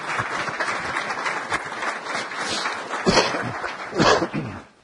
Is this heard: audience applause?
yes